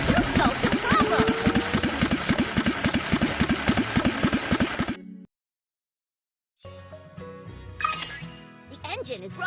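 Cartoonish truck engine idling in a children's truck and car repair game, a steady mechanical drone with clinks that cuts to silence midway, then returns with game sounds.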